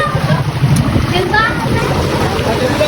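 A boat pulls in on the water off Gibitngil Island in Cebu: a steady low engine drone with splashing and sloshing water throughout, and voices chattering in the background.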